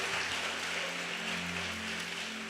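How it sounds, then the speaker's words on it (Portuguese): A church congregation claps for Jesus during a sermon: a steady, even wash of many hands clapping together, moderately loud and continuous, over a faint electrical hum. "dê um aplauso a Ele, aleluia!"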